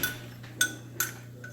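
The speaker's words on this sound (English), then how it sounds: "I'm going to go ahead and get the gravy mixed up real quick." A spoon clinks against a cup while stirring gravy mix, giving a few sharp, bright taps spaced apart over a low steady hum.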